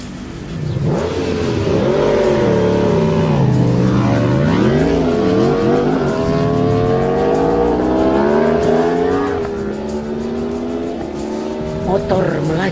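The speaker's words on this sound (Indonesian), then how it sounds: "motor melaju di tengah dengan kecepatan tinggi, disusul motor belakangnya" High-speed engines roar past and accelerate, pitch sweeping up and down as vehicles race by one after another, loud and sustained with a brief tire squeal, under a narrator's voice.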